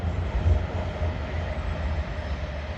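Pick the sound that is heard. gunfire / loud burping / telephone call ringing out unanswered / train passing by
train passing by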